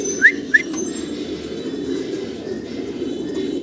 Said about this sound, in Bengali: নর ডাকতেছে, আপনারা দেখতে পারতেছেন